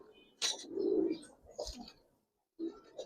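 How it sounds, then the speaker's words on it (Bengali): Giribaz pigeons on a rooftop give a few soft, throaty coos close by, in short separate bursts with a brief pause between them. "আর এগুলো ডাকগুলো সুন্দর লাগে।"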